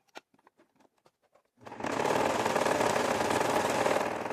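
A sewing machine runs a straight stitch through fabric, a steady, loud whirring drone that starts after a few soft handling taps and keeps going to the end.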